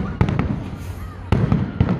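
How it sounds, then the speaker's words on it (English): Fireworks at the Stampede Grounds go off in sharp, booming bursts. Clusters of crackling pops follow each other at uneven intervals, loud and fairly near, with excited voices in the crowd. "Look at those pretty fireworks."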